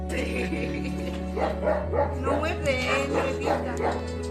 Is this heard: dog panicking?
yes